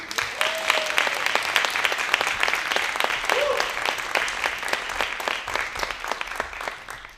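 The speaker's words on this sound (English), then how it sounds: "One more quick round of applause for the 2022 award." Applause from an in-person audience honoring 2022 award winners at an arts presentation night in Houston, a steady dense wash of clapping that carries on for several seconds with a faint voice briefly underneath.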